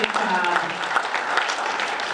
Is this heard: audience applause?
yes